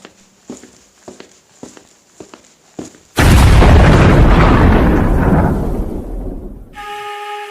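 A warehouse blown up by a loud explosion sound effect, preceded by several soft footstep-like thuds, then a sudden massive boom whose roar slowly decays into rumbling debris, followed by a faint ringing tone.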